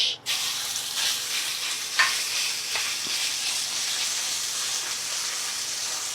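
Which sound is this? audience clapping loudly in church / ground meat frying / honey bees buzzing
ground meat frying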